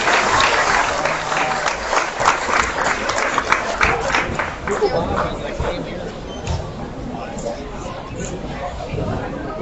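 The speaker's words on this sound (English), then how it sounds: "give all those exhibitors in this first class a nice big round of applause" A livestock show crowd applauds the exhibitors of the lightweight steer class, clapping strongly at first and then thinning out, with an announcer's amplified voice and crowd chatter running underneath.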